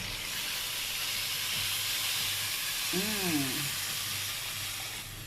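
Pork sinigang with taro and radish simmers in a pot, a steady broad hiss and bubbling texture running throughout, with a brief tonal squeak or voice-like sound partway through.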